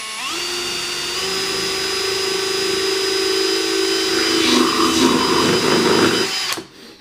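A drill bit whines steadily as it bores through pre-cracked acrylic plastic, holding a sustained tone for several seconds. Grinding bursts come as the bit works through, and then it cuts off abruptly.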